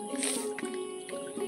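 Hand splashing and sloshing in a countryside pond, light trickling and gurgling water close by, with faint broadband noise throughout.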